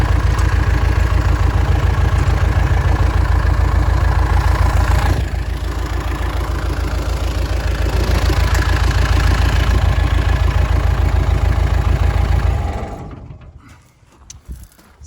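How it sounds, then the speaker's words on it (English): Skid steer engine idling nearby at steady, loud volume with a rhythmic low chug, running alone until it cuts off and dies away near the end. "turn the skid steer off so he can hear me"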